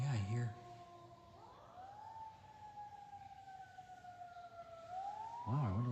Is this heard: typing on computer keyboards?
no